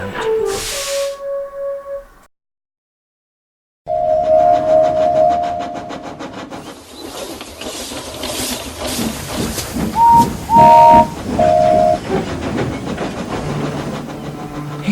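A steam train chuffs and hisses along the track with rhythmic clattering, after a brief whistle and a short silence; a higher whistle toots midway.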